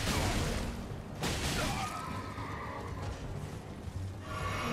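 A horse in the video game Elden Ring neighs loudly and shrilly amid game battle noise, with hoofbeats and clashing sounds continuing around it.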